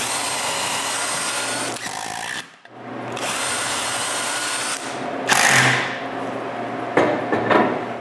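Wood blank being screwed onto a lathe faceplate, a close, loud steady whirring grind that runs in two long stretches split by a brief pause, then shorter louder bursts near the end.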